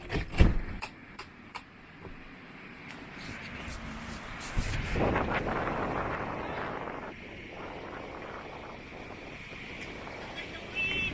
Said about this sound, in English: But anyway, the wind.